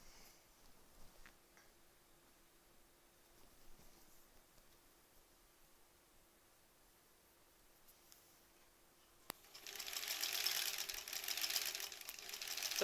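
A sewing machine stitches fabric scraps in a quiet room with faint ticking. Near the end a louder burst of fast whirring stitching comes in, close and steady for a few seconds.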